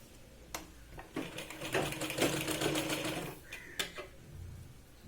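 A sewing machine stitches the neckline of a Punjabi dress, its needle running in rapid, uneven bursts that speed up and slow down over several seconds, close and moderately loud, with brief pauses between runs.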